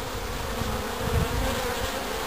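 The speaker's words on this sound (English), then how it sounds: "So there'll be a few bees flying around you shortly." A dense, steady buzzing of a honey bee swarm close by, continuous throughout with a slight swell in the middle.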